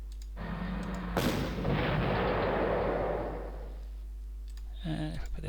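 Artillery fire in the Panzer Corps World War II strategy game: a sudden heavy blast followed by a long roaring, crackling rumble that fades over about three seconds, then quiet game ambience.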